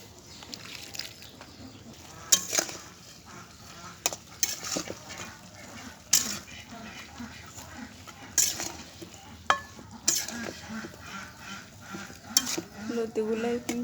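Taro stolons stirred and fried in a pan with dried fish, whole and crushed garlic: steady sizzling under repeated scraping and clinking of a spatula against the pan, with sharp metallic knocks scattered throughout.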